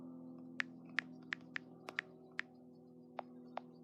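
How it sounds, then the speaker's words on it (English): Crisp, quiet iOS 10 on-screen keyboard clicks on a smartphone tap out about ten times at an uneven pace over a low steady hum. "It's got different keyboard sounds."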